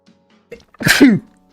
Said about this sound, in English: Oh, man, I'm sneezing.